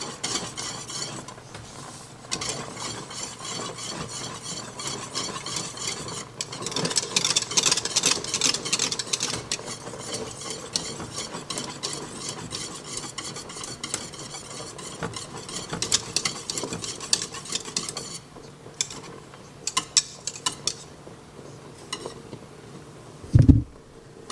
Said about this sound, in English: I'm going to stay near it and just keep giving it some whisks until it begins to thicken up